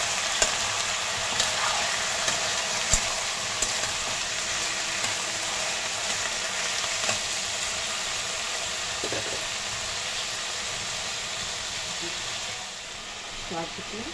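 Chopped onion, okra, potato and tomato fry in a pan for a simple bhindi sabzi, giving a steady close sizzle and hiss with a few light clicks from stirring.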